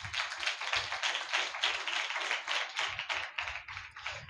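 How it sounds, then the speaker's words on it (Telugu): A church congregation claps loudly together in a steady, rhythmic beat, with sharp close claps repeating throughout and no talking. "గట్టిగా చప్పట్లు కొడదామా?"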